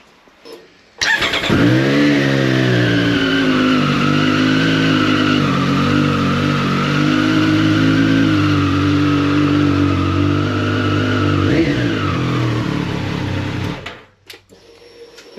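Motorcycle engine, dropped and damaged with a cracked rear, starts abruptly and idles loud and close with a steady buzzing drone, rising in one quick rev near the end before cutting off.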